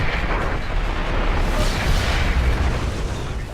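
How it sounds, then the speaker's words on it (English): A nuclear explosion in the video game Call of Duty Modern Warfare rumbles as a loud, sustained, broadband roar with heavy low-end boom, continuous throughout without speech. "Number 6, the nuclear explosion, Call of Duty Modern Warfare."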